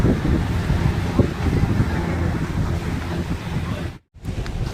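Sea wind and waves at Rock Beach in Pondicherry: a loud, steady roar of surf with wind buffeting the microphone, briefly cutting out near the end before the wash resumes.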